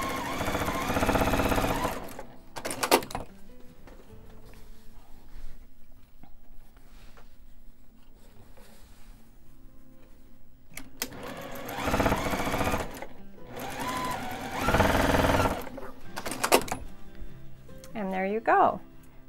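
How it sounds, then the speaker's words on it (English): A sewing machine stitches quilt block pieces together for a long skinny block, running in loud, near bursts of rapid whirring between pauses, with someone talking in the quieter stretches. "I'm going to sew these together, and I will have my long skinny block."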